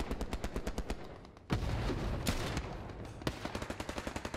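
Rapid gunfire from the Hell Let Loose video game, a steady run of close, sharp shots that breaks into louder bursts and blasts in the middle and then returns to quick repeated shots.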